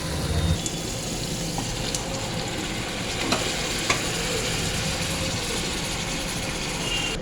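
Chicken pieces tipped into a pan of frying potatoes and green chillies for chicken kosha, then stirred: a steady close sizzle with scraping spatula strokes and a few louder clatters, no voices.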